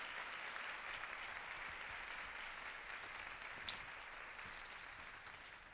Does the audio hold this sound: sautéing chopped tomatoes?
no